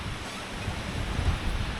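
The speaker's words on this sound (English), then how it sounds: "So we're seeing this wind. I don't know if you can hear that wind, but it's definitely some severe gusts out here" Strong wind roars continuously across the microphone on the exposed summit of Mount Isolation, New Hampshire, a loud buffeting rush with low rumbling gusts.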